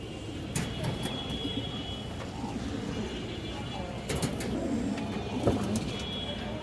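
Pigeons for sale coo in low repeated calls near at hand amid a steady rumbling background, with someone talking intermittently.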